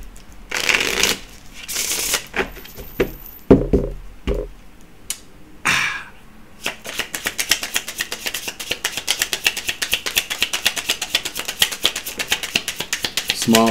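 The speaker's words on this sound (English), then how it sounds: "We're doing one more shuffle here." A deck of playing cards is shuffled during a tarot-style reading, with scattered riffles and handling noises early on, then a long, steady run of rapid, close card flutters.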